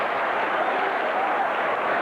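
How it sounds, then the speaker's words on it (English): Boxing crowd at a heavyweight fight in Atlantic City, a steady, dense roar of cheering and applause filling the arena, continuous and loud with no break. "Listen to this crowd in Atlantic City."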